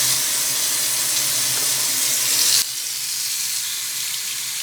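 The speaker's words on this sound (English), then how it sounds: "And rinse it off in lukewarm water." Tap running lukewarm water while a dental retainer is rinsed under it, a loud, steady hiss of flowing water that cuts off abruptly partway through, leaving a quieter trickle and room noise.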